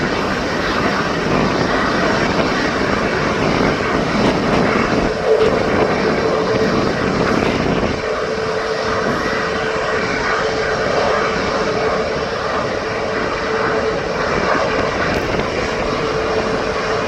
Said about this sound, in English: So this aircraft's going out to Qatar.